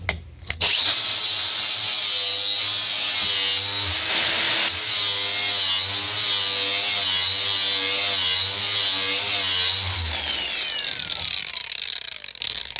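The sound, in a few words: GSTP sharpener grinding a lawn mower blade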